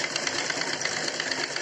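A sewing machine stitches kurti fabric in a fast, even, continuous whirring run, fairly quiet and close, with no talk over it.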